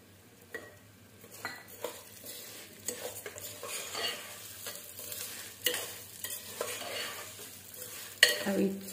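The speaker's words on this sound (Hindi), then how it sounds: "धीरे धीमी आंच पर हिलाते रहेंगे जब तक ये पूरा रेड ना हो जाए।" Wheat khichada mixture roasting over low heat, stirred with irregular scraping and clinking utensil strokes against the pan above a faint sizzle, quiet and close, a louder knock near the end.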